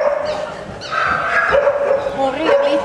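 Dog yipping and barking in short bursts, mixed with whimpers, close by at a dog agility training session, over steady background noise and some voices.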